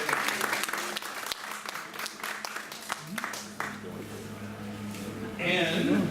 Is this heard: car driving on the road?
no